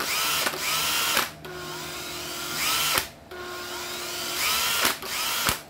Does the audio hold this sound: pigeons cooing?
no